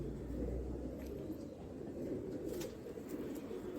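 A rare breeding pigeon kept by a fancier in Tonk giving low, soft coos, a faint rumbling call under a steady background hum with a few faint chirps.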